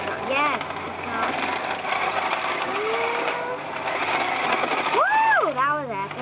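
Small remote control cars drifting, their high whining electric motors rising and falling in pitch through quick slides, loud and close, with excited voices over them and a sharp swooping whine near the end.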